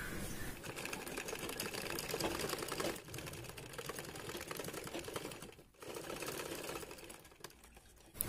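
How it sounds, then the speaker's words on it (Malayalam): A standard domestic sewing machine stitches piping onto a churidar neckline, producing a close, rapid mechanical clatter that runs almost continuously, with brief pauses between bursts of stitching. "ഇനി നമുക്ക് ഇതിന്റെ തൊട്ട് പറ്റ തന്നെ ചേർത്ത് വെച്ച് തയ്ച്ചു കൊടുക്കാം."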